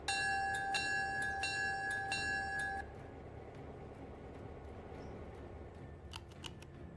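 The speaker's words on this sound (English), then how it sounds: "Let's ding the bell." A train bell in a train video game clangs in a quick run of about six strokes, ringing and metallic over a rumbling engine and track noise, then stops while the rumble continues with a few clicks.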